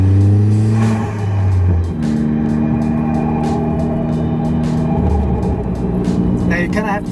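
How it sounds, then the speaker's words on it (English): A Ford Fiesta ST fitted with a 2J racing intake sings loudly, its engine tone stepping and shifting as it revs and pulls, with intake roar close and dominant and a burst of higher clatter near the end. "of course you can hear my 2J racing intake up there. It's still good and loud."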